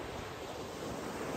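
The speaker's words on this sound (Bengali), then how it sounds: "ঝাউবনের মধ্যে দিয়ে হাঁটতে হাঁটতে সমুদ্রের গর্জন শুনব" Sea waves roll onto a quiet, empty beach at Tajpur, heard as a steady, continuous broadband roar with some wind noise on the microphone and no voices.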